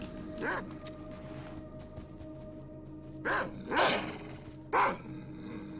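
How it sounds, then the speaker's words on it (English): Dogs barking in the video game S.T.A.L.K.E.R. Call of Pripyat, a few separate barks at mid distance over a steady low background drone. "How many dogs are there?"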